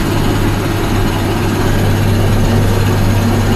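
A tractor engine labours at nearly full power while it pulls a field ripper through the soil. The steady, loud, low-pitched drone runs without a break throughout.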